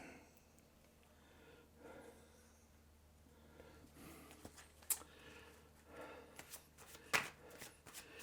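Tarot cards being shuffled and drawn during a reading, heard as quiet, soft rustling with a couple of sharp, brief card snaps standing out near the end.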